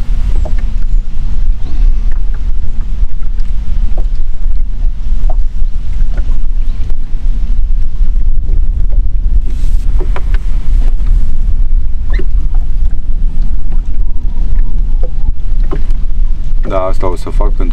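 Strong gusting wind buffets the microphone continuously on open water in the Danube Delta, a loud low roar with occasional knocks and splashes around a small boat, and a voice speaks briefly under the noise.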